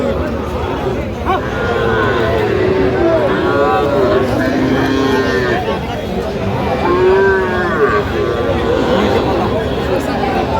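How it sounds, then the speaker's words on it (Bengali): Bull calves moo repeatedly at a busy cattle market in Feni, Bangladesh, their drawn-out calls rising over constant crowd chatter and people talking nearby. "ষাঁড় বাচ্চা"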